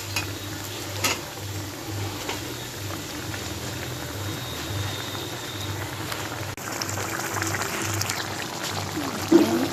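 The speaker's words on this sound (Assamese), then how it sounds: "উতলাৰ সময়তে মাছখিনি পেলাই দিম।" Rohu fish pieces go into a pot of gravy at a rolling boil, a steady close bubbling and simmering with a low hum and a couple of soft splashes and clinks near the end.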